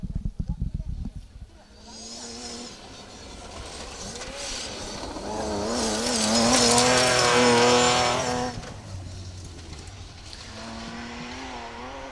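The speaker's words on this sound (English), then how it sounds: "Okay, next up then, Kevin Metcalf, Lucy Guttridge in the BMW E30." BMW E30 rally car on a gravel stage at the Woodpecker Stages Rally, its engine rising to a loud revving pass before fading away, with a commentator talking over much of it.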